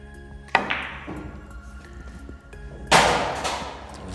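On a pool table, the cue ball strikes balls on a thin-cut shot: one sharp knock rings out, then a second louder crack with a lingering decay a couple of seconds later, with no talking.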